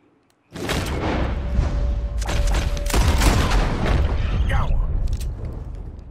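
Rapid bursts of gunfire in Red Dead Redemption 2, a sudden loud volley followed by repeated booming shots and rumbling echoes over several seconds, with a steady tone running beneath.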